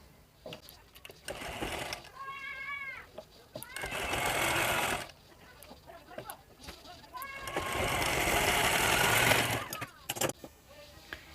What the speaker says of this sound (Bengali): এইভাবে ভাঁজ করে পট্টির উপরে সেলাই দিয়ে দিতে হবে